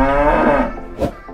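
A cow lets out a close, loud low moo that fades, followed by a short breathy snort.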